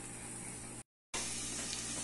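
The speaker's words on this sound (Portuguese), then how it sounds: "vamos deixar fritar a tal da carne com a quireirinha pra pegar o gosto aí" Pork and quirera (cracked corn) fry in a pan with a steady, hissing sizzle, cut off by a brief silence before resuming at the same close, even level.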